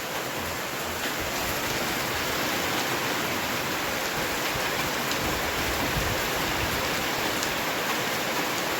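Steady, dense rain falls with wind, a loud, continuous hiss that stays even throughout with no talk.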